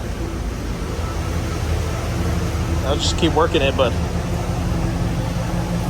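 An F-Body Camaro fitted with aftermarket headers runs at a steady, low, throaty idle close by, under someone talking over it.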